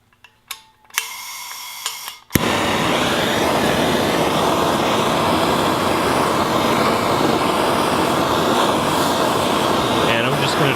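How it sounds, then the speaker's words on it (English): A blowtorch roars steadily and close, heating the aluminum around a KTM lower heim joint shock bearing, a continuous loud hiss after a few clicks and a voice at the start. "The blowtorch is hopefully gonna allow the aluminum to expand and the bearing to sort of walk itself out"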